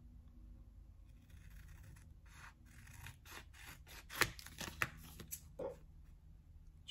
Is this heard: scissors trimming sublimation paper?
yes